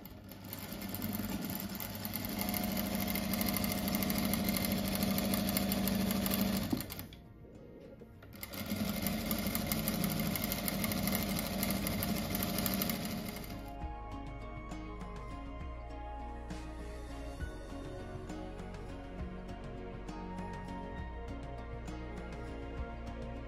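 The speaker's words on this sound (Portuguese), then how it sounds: "Daí vou costurar 8 faixas assim nesse aqui" Sewing machine stitching fabric strips for a table runner or rug, a fast steady mechanical whir that stops briefly, resumes, then gives way to a quieter hum.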